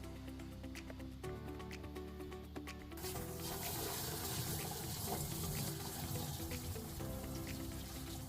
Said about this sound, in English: we're going to refill the live wells with water and start on another circulation cycle